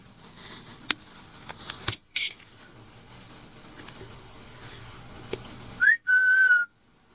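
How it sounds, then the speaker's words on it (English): A whistle carries through the night at a campsite, one short rising note followed by a longer steady tone, faint and clear over quiet outdoor background. "I just heard a whistle."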